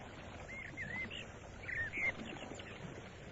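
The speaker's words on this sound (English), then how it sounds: "Birdsong." Faint birdsong in a quiet countryside setting: a few short, high chirps rise briefly over the steady murmur of a nearby brook, with no voices.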